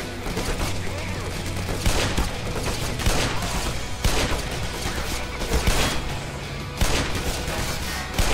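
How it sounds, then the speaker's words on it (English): Rapid gunfire in the video game Black Mesa, dense bursts of loud close shots and booming impacts packed back to back, with a few sharper cracks standing out from the barrage. "You are shooting me from down there?"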